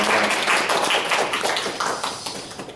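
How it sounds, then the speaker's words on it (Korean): A church congregation applauds in thanks for the pastor, a full, close burst of many hands clapping that carries for a few seconds with no talk over it. "말씀 전해주신 우리 목사님 감사 박수 한번 하겠습니다"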